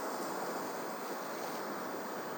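Storm wind roars steadily along the Vityazevo coast, a dense, unbroken rush with surf-like wash and microphone buffeting, fairly constant in level with no voices.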